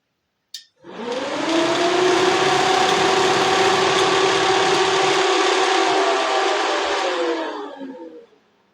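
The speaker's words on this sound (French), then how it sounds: "Normalement, les deux ventilos devraient se mettre en route." Twin electric radiator cooling fans on a Renault 4L switch on with a click, spin up into a loud steady whirring drone with a tonal hum, run for several seconds, then wind down.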